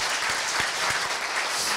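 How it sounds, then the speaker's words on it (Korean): Audience applause at a Korea University labor-management-government forum in Seoul, a steady, dense wash of many hands clapping at once, moderately loud and continuous with no talk over it. "우리 시장님께 다시 한번 큰 박수 부탁드립니다"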